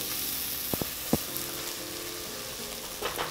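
Lamb sizzles steadily in a hot pan while being stirred, a dense close frying hiss broken by a few sharp clacks of the utensil against the pan, with no talk.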